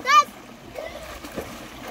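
Someone ducks under water at a swimming spot before a breath-holding contest, giving one short, sharp splash at the start, followed by quieter water movement and distant voices of children.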